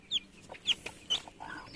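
A newly hatched chicken chick at home gives three sharp, high peeps, evenly spaced and close, over a quiet background.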